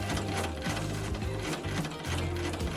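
A sewing machine stitches a French seam on an Edwardian blouse with a quarter-inch seam allowance, a close, steady rapid mechanical chatter with rhythmic clicking throughout, no voices.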